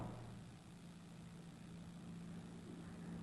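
A distant Pitcairn propeller aircraft drones as it approaches, a faint, steady low engine hum with a sustained tone, heard alone over a quiet outdoor background.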